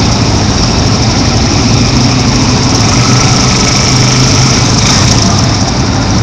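Honda police escort motorcycles idle and rumble at a shareholder protest march, a loud, steady, continuous engine drone close by with no talking over it.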